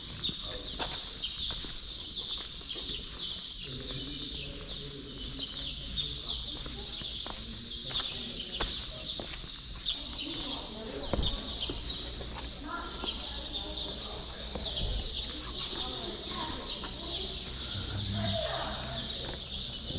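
Birds call and chirp throughout inside an ancient temple site in Malta, a continuous chorus of overlapping chatter with some clucking, mixed with footsteps and occasional handling noise.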